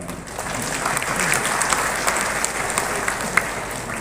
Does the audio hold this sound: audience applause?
yes